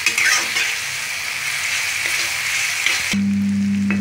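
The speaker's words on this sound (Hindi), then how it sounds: "इसे बीच बीच में चलाते रहें ताकि ये बिल्कुल भी कढ़ाई से ना जल के" Onions frying in a kadai, stirred now and then, give a steady close sizzle with a few scraping touches. Near the end the sizzle thins out and a low steady hum takes over.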